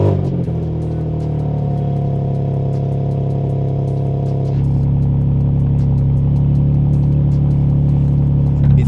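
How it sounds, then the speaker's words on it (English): A BMW M2 G87 cold starts with a loud rev, then settles into a steady, throaty idle, close and continuous throughout. "Right now when it starts, it revs a little bit and then comes right back."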